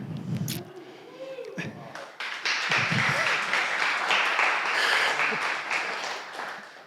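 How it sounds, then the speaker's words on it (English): A conference audience bursts into applause during a software talk, a dense, steady clatter of clapping that swells after a brief voice and holds for several seconds before easing. "and now I want some applause as well."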